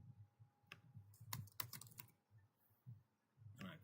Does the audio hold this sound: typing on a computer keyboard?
yes